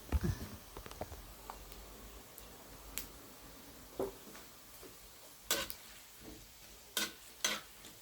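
Pork rinds deep-frying in hot oil give off sparse, quiet crackles and sharp pops at irregular moments, with a faint bubbling hiss between them and no talking.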